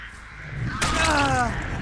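Crows caw in Dead by Daylight, several harsh cries layered over game ambience after a sharp impact, with faint talk underneath.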